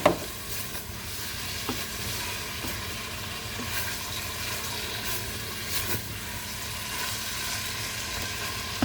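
Continuous crackling sizzle of chicken frying in a saucepan, close and even, with a few light scrapes from stirring.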